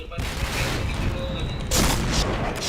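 Gunfire in a shooter video game, a dense, loud rattle of shots and booms running throughout with a heavier burst near the end, with a voice speaking briefly underneath.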